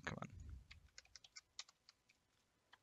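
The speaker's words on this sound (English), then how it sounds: "now we're going to type in a service name." Keys clack on a computer keyboard as a service name is entered on a Windows 10 PC, a quiet, irregular string of separate taps after a brief louder rustle at the start.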